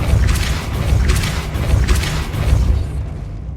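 Depulso force spell cast in Hogwarts Legacy: a deep rumbling blast that swells in three booming surges, loud and close, before cutting off abruptly near the end.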